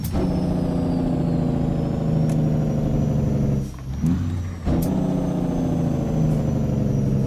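A 2024 Caterpillar C15 truck engine idles steadily and loud in a convoy, its deep harmonic drone dipping briefly near the middle before resuming at full strength.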